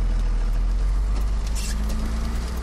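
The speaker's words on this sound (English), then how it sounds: "It sounds like it too, because I straight piped it. I took the muffler off. This is just 4-inch straight pipe now." A Cummins diesel engine in a Silverado truck with a 4-inch straight-piped exhaust and the muffler removed, a deep continuous rumble heard close and loud throughout, with no talk.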